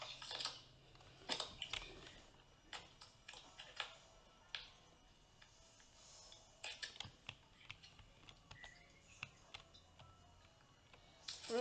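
Faint, irregular clicking of keys on a computer keyboard during a game of Among Us, coming in scattered bursts of taps with short pauses between them.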